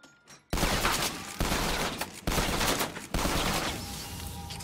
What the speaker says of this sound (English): I got a shotgun!